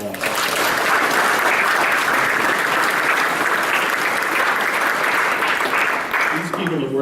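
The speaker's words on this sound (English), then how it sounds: "Let's give them a round of applause." Sustained applause from a large audience fills the space for several seconds at a steady, dense level and tapers slightly at the end, with a voice beginning to speak under the tail.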